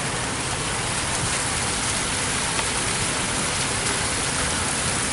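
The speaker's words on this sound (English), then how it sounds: "Look at that pretty waterfall over there." A waterfall at a hotel resort produces a steady, unbroken rush of splashing water, fairly close and even in level for several seconds, with no voices over it.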